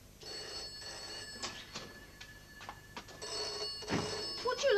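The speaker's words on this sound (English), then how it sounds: "Would you like me to put this tray down and answer the phone?" A telephone rings in bursts, its bright repeated trill sounding close in a domestic room, with rustling and small clatters around it and no one speaking.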